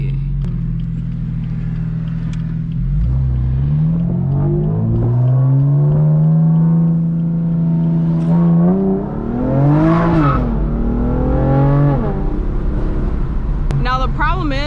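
2018 BMW M4 heard from inside the cabin while driving on a winding road: a loud, steady engine and exhaust drone that rises and falls with throttle and revs, climbing sharply near the end.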